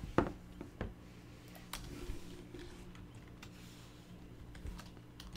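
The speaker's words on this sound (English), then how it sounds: "Typing is difficult." Fast, irregular keystrokes clatter on a computer keyboard at close range, with a few sharper isolated clicks and quiet background hum, no talking.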